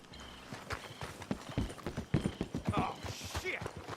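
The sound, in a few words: horses walking in video game Red Dead Redemption 2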